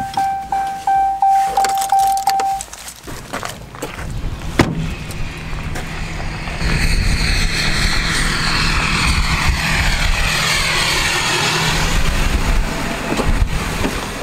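Pickup truck with a 6.7 engine pulling away and driving, clinking metallic rattles at first, then a broad, steady road and engine rumble that holds loud and close to the end.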